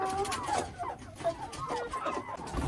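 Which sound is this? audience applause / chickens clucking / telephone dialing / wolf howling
chickens clucking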